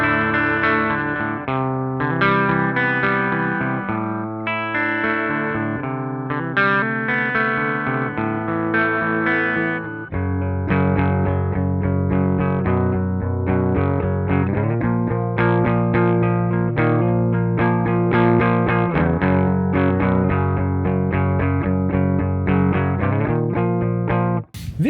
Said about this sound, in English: They can, you know, enable you to find this kind of grungy sound, dirty but not too over amplified